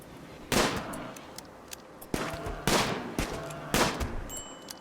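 Gunfire from a shooting line in a colony-building video game, several bursts of crisp shots in quick clusters separated by short pauses, fairly loud with no talk.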